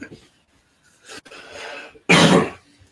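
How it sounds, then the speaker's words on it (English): A person hanging out down the street coughs, a short rough cough followed by a louder, harsh burst near the end, close to the microphone. "I'm coughing a lot"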